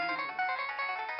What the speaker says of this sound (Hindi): ये किसका फोन बजा है?